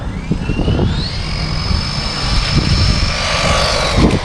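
A JJRC C8811 (MJX 20208) 4WD RC monster truck's electric motor whines loudly and steadily, its pitch rising then holding high as the small truck spins out, with rumbling wheel and ground noise underneath.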